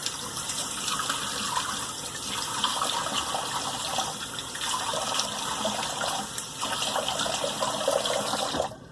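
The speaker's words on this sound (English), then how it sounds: "let's do a cold water rinse" Cold water from a tap runs steadily into a sink for a face rinse after a shave, a constant close splashing hiss lasting the whole time with no voices.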